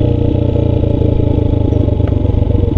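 A motorcycle engine runs loud and close with a steady pulsing throb as the rider works the clutch and brake over a street speed bump, then pulls away smoothly.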